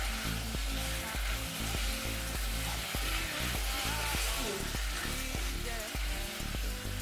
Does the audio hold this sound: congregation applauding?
no